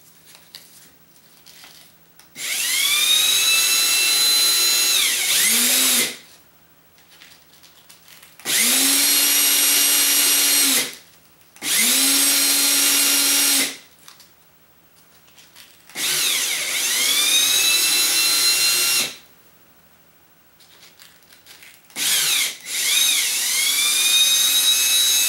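A power drill spinning sandpaper wrapped around a slotted nut for a DICE 3D printer build whines loudly in four long bursts with a short stop-start near the end, pitch rising as each burst spins up and dipping under load, no talking.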